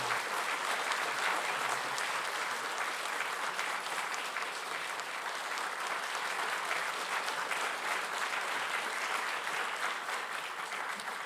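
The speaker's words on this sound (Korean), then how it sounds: "크게 박수로 하나님께 영광을 돌립시다." A church congregation breaks into loud, sustained applause, a dense even wash of many hands clapping together with no gaps, close and full for the whole stretch.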